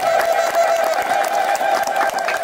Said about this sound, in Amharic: ወንዶች በጭብጨባ ሴቶች በእልልታ